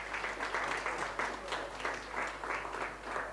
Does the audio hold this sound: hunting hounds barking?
no